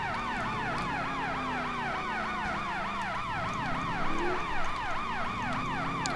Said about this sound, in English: We are behind an ambulance.